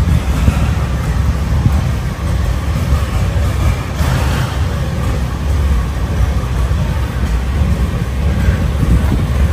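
An antique tractor engine rumbles low and steady outdoors at a tractor show as a pull is being readied, a continuous loud drone mixed with wind buffeting the microphone.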